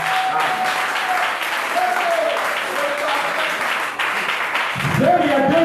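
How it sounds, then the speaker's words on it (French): A church congregation applauds loudly and steadily at a Wednesday evening meeting at the Branham Tabernacle, the dense clapping filling the space throughout, with a voice rising briefly near the end. "Acclamons très fort pour le parfait."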